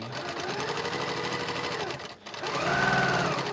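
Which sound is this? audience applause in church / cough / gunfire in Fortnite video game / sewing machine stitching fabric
sewing machine stitching fabric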